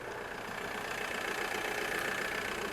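A diesel car engine idles steadily during an emissions inspection, a continuous mid-pitched hum with a faint knocking texture, fairly close and unchanging for a few seconds.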